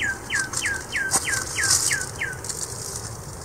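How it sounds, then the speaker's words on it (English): A garden bird scolding near its nest in Wisconsin, a rapid series of eight sharp, evenly spaced downward chips at close range, then stopping, over faint outdoor background hiss. "we have a bird that is scolding us because her nest is right over there and she thinks we're bothering her"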